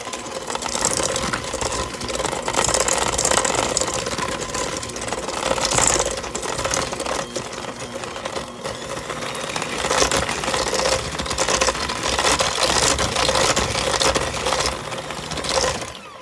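An electric mixer whirs steadily as it blends sugar, butter and molasses for oatmeal cream pie filling, a continuous close motor drone with slight wavering for about sixteen seconds and no talking.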